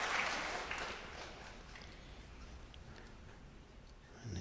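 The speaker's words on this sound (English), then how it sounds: "And a generous round of applause" Snooker audience applauding after a terrific black-ball shot in a Joe Perry versus John Higgins quarter-final at the 2013 Wuxi Classic; a generous round of clapping that starts loud and fades over a few seconds to a softer patter.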